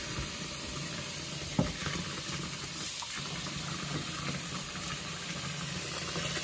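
Bleach water splashing and sloshing around pyrite specimens in a kitchen container, a continuous hissing, fizzing wash with one brief knock, steady and close with no talking.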